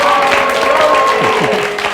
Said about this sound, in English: Oh, they're really booing now, Val.